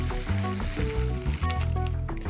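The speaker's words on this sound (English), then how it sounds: "Quick stir, and as it cooks, the veg stock's really going to penetrate the peas and the sweet corn" Frozen peas and sweet corn simmering in veg stock in a rice pan, giving a steady close sizzle and bubbling throughout with faint stirring scrapes.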